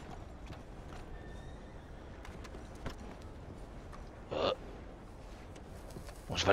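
A horse in Red Dead Redemption 2 whinnies sharply twice against quiet background, with soft hoof clip-clops and faint ambient noise between the calls.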